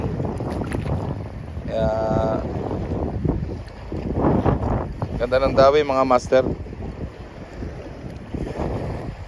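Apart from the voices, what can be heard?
strong wind blowing at a fishing spot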